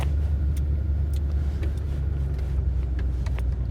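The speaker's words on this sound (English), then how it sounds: "Coming to you from my truck, which you hear in the background, that is the mud flap" A truck's mud flap rubs against its tire while driving, heard as a steady low rumble of road and engine noise filling the whole stretch with faint scraping ticks above.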